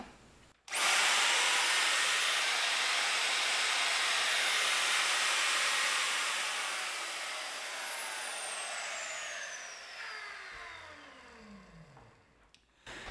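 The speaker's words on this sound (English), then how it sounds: "I've got a small router here. I can plug this up and run this." A small wood router powered from an Anker SOLIX F2000 portable power station spins up abruptly, holds a loud, steady high whine for several seconds, then winds down with a falling pitch until it stops.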